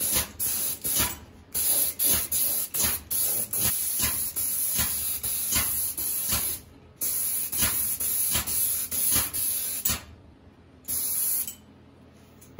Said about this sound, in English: We'll go ahead and get one last final coat of lacquer on this.